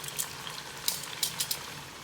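Pork chops sauté in a Power XL cooker with a soft, even sizzle, broken by a few brief crackles and light clicks, close and fairly quiet.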